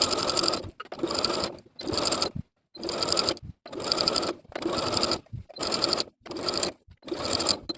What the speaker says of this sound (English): Press your seam allowance down toward the garment and top stitch in place about 1/8 of an inch away from the